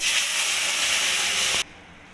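A loud burst of hissing sizzle from tomato paste hitting hot oil in a kadai over a gas flame, steady for over a second and a half, then cutting off abruptly to quiet.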